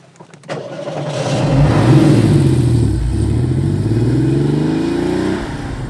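A Porsche 911 964 RS engine cranks, catches and starts, then revs up with a rising growl before settling into a steady, rumbling idle nearby.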